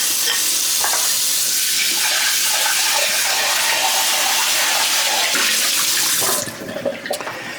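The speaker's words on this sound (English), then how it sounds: "I'm gonna rinse it." Tap water runs steadily into a pan being rinsed at a kitchen sink, a continuous splashing hiss close by that thins out and falls away near the end.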